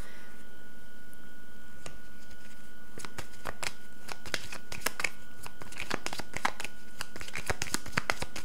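Tarot cards being shuffled by hand, a run of crisp riffling snaps and flutters that starts sparse and grows denser, close and fairly quiet over a faint steady hum, with no talking.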